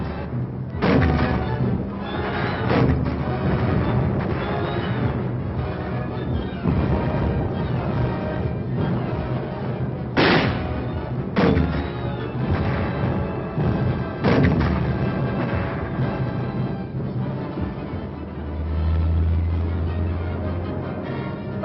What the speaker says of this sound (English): The command to fire is given,